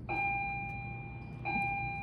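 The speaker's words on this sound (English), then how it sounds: "Sorry about that bell." An electronic school bell rings during a classroom lecture, two clear sustained tones, each starting abruptly and repeating once about a second and a half later, moderately loud over quiet room noise.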